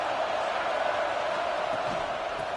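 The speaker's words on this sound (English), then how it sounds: "Listen to the crowd energy here in the early going." A stadium crowd in College Football 26 roars as a steady, broad wash of distant noise at an even level, with no distinct cheers standing out.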